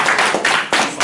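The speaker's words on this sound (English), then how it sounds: "Let's clap for him." An audience claps during a question session, a short burst of close, crisp handclaps in a few uneven bursts with no talking.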